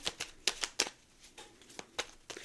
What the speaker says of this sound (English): It's so hard to shuffle with her right here.